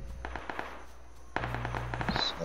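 Gunfire from a sniper rifle in PUBG: a couple of sharp, loud cracks with a heavy boom partway through, and a booming rumble around them.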